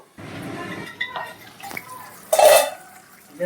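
Mutton curry being sautéed and pressed down in a pot, with soft sizzling and intermittent metallic scrapes and clinks of a spoon against the pot, ending in a louder burst of stirring.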